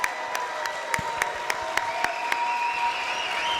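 Applause for a Buffalo Music Hall of Fame induction event, with a steady wash of hand clapping from a crowd throughout and a few sharper individual claps standing out.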